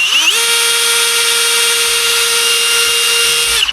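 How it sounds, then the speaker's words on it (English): A power drill whirs up and holds a steady, loud high-pitched whine for several seconds while boring holes in an obstacle build, then winds down, close up and alone. "Now, let's get to making even more holes."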